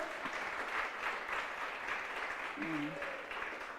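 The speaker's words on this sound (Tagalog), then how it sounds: "pero bigla kayong pumalakpak, ang lakas-lakas pa" A church congregation breaks into steady applause during a sermon, continuous rippling clapping heard at a moderate distance, with a brief voice or tone rising faintly underneath near the end.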